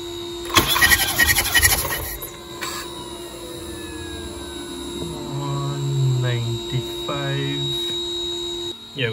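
A BMW B48 engine being cranked over during a compression test, with a burst of starter whirring and rhythmic chugging at the start, then a steady background hum and a few short tones.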